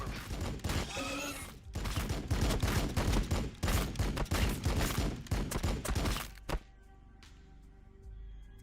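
Land speeder gunfire in Warhammer 40K Battlesector, a dense rapid burst of automatic shots hammering for several seconds, loud and close, then cutting off abruptly into quieter game ambience with a last lone shot.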